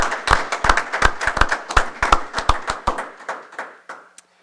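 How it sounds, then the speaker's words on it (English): At a school board meeting, a small audience claps for students, with sparse, distinct hand claps in an uneven rhythm that thin out and fade after about four seconds. "So let's just, round of applause for those students."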